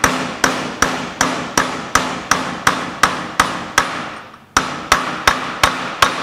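Hammer blows driving a bearing race into place, about fifteen sharp, evenly spaced metallic strikes close up, with one short pause before the rhythm resumes; no speech.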